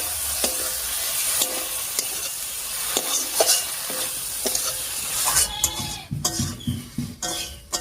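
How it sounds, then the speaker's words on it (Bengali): Ground spice paste sizzling and being stirred in a pan with green chillies during tomato cooking: a spoon scrapes and taps in a regular rhythm over a steady fry, ending in louder clattering strokes against the pan. "বাটা মশলাটা দিয়ে একটু কষিয়ে নিয়েছি"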